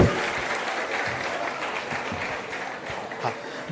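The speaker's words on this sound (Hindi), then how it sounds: "ताली बजा दीजिए" Applause from a crowd at a government benefit-transfer event, steady moderate clapping filling the room for several seconds, heard from some distance with a few louder claps near the end.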